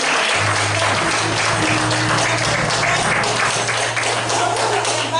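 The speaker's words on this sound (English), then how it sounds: "Come on, give God a hand clap of praise." A church congregation claps in praise during a worship service, a dense, steady wash of many hands that fills the whole stretch, with a low sustained tone humming underneath.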